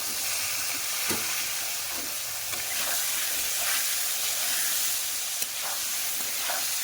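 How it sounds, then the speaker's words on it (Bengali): Ridge gourd sizzles in hot mustard oil in a pan, a constant frying hiss broken by a few soft stirring knocks. "লাল হয়েছে, এখন আমি ঝিঙ্গাগুলোও সব দিয়ে দিব"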